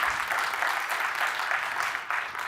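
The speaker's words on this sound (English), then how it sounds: "Can you give a warm applause for Kevin?" An audience at a tech talk on running Java workloads on AWS claps for the speaker Kevin. The applause is a steady, full wash of clapping from a room-sized crowd, with no voices over it.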